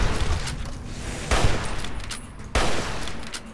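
Gunfire in the video game Fallout New Vegas, with rapid shots rattling continuously and three heavier blasts standing out at regular intervals, loud and close, with no talking.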